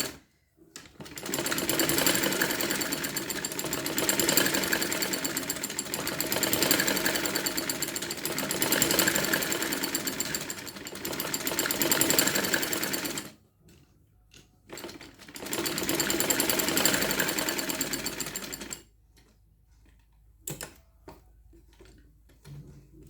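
Sewing machine runs in long fast stitching bursts while sewing the elastic waist of a dress, whirring and rattling close up, stopping twice, with a short burst between and quiet handling clicks after.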